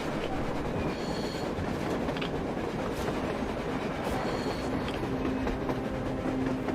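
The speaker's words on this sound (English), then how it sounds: "A train! A damn train on the surface!" A train in Metro Exodus rolls past on the surface with a dense, steady rumble of wheels and rattling carriages, clicking rhythmically over the rails and squealing faintly, loud and continuous without voices.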